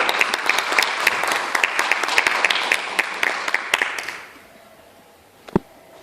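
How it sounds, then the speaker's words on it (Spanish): Audience applause at a Psychology vs. Communications inter-school debate at USMP Chiclayo: dense steady clapping for about four seconds, then it fades out to quiet with one sharp clap near the end. "Un aplauso de la misma manera, por favor"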